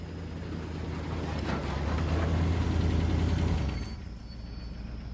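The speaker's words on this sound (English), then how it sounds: "Just then, a truck arrives." A truck arriving as an audiobook sound effect: a broad engine rumble builds and holds, then cuts off with a short hiss and release as the brakes set.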